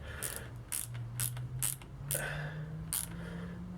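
A wrench tightening the bolt on a Harley-Davidson XLH Sportster battery terminal makes a series of close ratcheting clicks in short bursts over a low steady hum.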